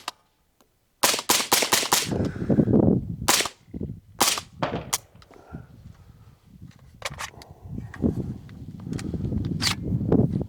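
Rifle shots from a Global Ordnance Monolith firing Exigent Defense Fire Team 5.56 ammunition, a rapid string of loud sharp cracks followed by scattered single shots and softer handling clatter outdoors.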